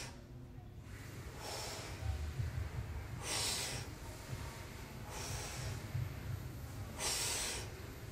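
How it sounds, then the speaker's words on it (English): Forceful exhales through the mouth during a yoga workout, about five rhythmic breathy bursts roughly a second apart, close and clear over steady low background noise. "Dynamic breath out through the mouth."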